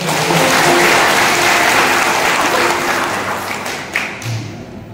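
Applause from a congregation at a Christian church service, a dense steady clapping wash that stays loud for several seconds before tapering slightly, with scattered individual claps near the end.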